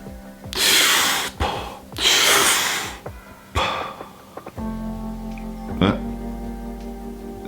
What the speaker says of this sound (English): I do the last full in and exhale, and then hold my breath after the exhale.